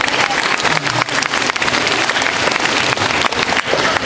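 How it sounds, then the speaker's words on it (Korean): Loud, sustained applause from a crowd filling the room at a school principal's retirement ceremony, dense clapping with no break in the sound. "박수 한번 주십시오."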